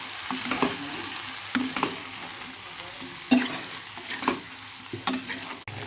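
A paste of cumin, ginger, chilli, salt and turmeric fries in a pan alongside tomato. It sizzles steadily at close range, with repeated scraping stirs and no voices.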